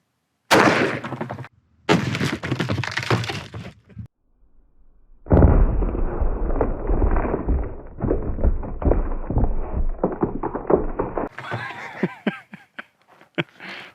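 A .44 Magnum is fired outdoors at a mannequin leaning against a berm behind a Level IIIA bulletproof backpack panel. A few sharp, loud reports ring out, followed by stretches of rough noise.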